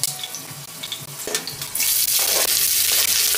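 Garlic dropped into hot oil with chilies, first some scattered pops and clinks, then a loud, bright, continuous sizzle bursting up and holding steadily to the end.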